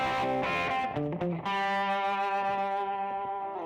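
Sustained electric guitar chords through a BOSS eBand JS-10 ambient reverb, with a wide, washy reverb tail, a few quick strums leading into a long ringing chord that fills the space.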